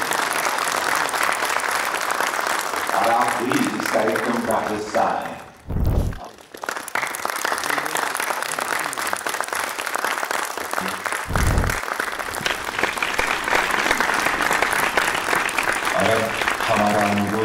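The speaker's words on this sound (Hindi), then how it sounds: "एक बार फिर से जोरदार तालियां हो जाती" Loud, sustained audience applause fills a Sikh film festival opening ceremony in Chandigarh, with a brief dip midway, while someone speaks over the clapping in places.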